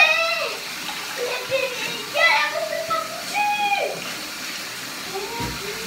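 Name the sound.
water running while rinsing in a bathtub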